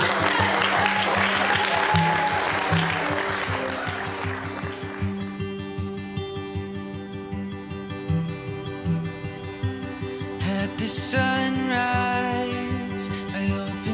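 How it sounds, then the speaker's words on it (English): Wedding guests applaud the newlyweds, Mr. and Mrs., with a sustained round of clapping that fades under a loud, steady sung love song with music. "Can we have a round of applause for Mr. and Mrs."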